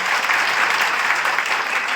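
A crowd at a youth gathering and Holi celebration claps loudly to welcome a political candidate, a dense, steady wall of applause filling the whole moment.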